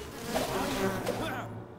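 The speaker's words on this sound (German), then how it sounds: "Ja, das sind gleich zwei Bienenstöcke." Bees swarm and buzz around two beehives in Enshrouded, a steady close insect drone that fills the short moment without any talking.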